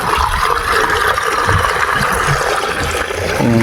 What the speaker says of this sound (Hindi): और देखो पानी भरा जाता है सवेरे सवेरे।